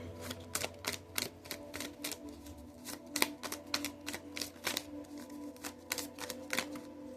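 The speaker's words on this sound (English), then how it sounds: "Let's pull some more from the chakra cards here." Chakra cards shuffled by hand in a close, quiet room, producing a rapid series of crisp riffling clicks and flutters in an irregular rhythm.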